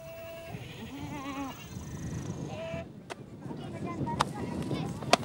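Goat bleating in a Saharan desert camp, a few wavering bleats heard over steady wind and outdoor background noise, with a voice narrating in French.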